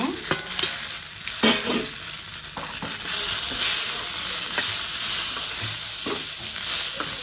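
Onions, mint, coriander and tomato fry in a pan with a bright, continuous sizzle, broken now and then by the scrape and clack of a spoon stirring the mix. No voices are heard.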